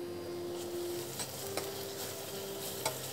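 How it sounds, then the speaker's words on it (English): Chopped garlic and onions frying in a pan for sarson ka saag, a steady soft sizzle with faint clicks of a spoon stirring against the pan, heard close up and without talk. "So we will add some chopped garlic"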